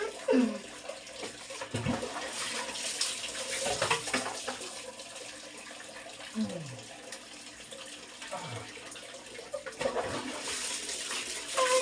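Water splashing and pouring during a bath, a steady close wash of running and sloshing water with brief louder splashes and faint vocal sounds underneath.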